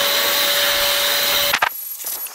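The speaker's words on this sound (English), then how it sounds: "I can use this blower much at a much closer distance and it's much more effective" An electric air blower blasting dust out of a computer, a loud close steady whooshing whine that cuts off abruptly midway, followed by a few brief bursts and handling noises.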